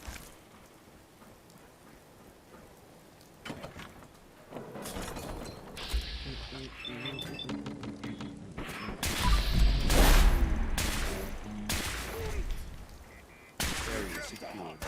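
An automated turret fires in the game Fallout 4: quiet at first, then rapid mechanical clattering bursts and staccato shots in several loud volleys, with clicking, whirring mechanisms between bursts and a voice speaking briefly.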